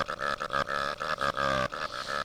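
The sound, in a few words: burping selection noise from a Shrek video game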